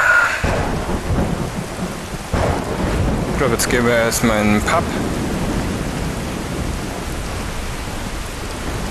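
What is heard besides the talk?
thunderstorm and rain in the video game Skyrim VR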